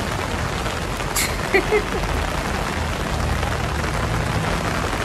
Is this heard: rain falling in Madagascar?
yes